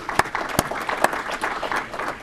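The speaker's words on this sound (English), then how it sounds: "I think that's worth a round of applause." Audience applause at a Rotary club meeting, a steady wash of many hands clapping with a few sharper claps standing out, continuing at moderate loudness for the whole stretch.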